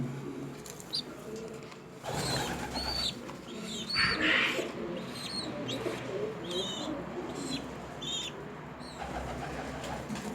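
Young pigeons cooing in soft, repeated throaty calls, close by, with chirps and faint rustling in between and a continuous low background hum.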